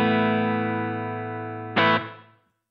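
Electric guitar through a Boss ME-90 set to room reverb: a sustained chord that decays slowly, then a short strum near the end that dies away with a brief tail.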